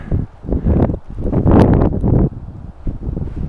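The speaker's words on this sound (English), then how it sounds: "we got a wind picking up here" Wind picks up outdoors in cold weather, roaring in loud buffeting gusts against the microphone that swell and fade over a few seconds, with no one speaking.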